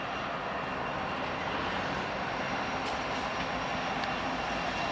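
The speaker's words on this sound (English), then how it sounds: "Train going by." A train passing near a small park, a steady broad rumbling roar that holds evenly loud throughout with no breaks.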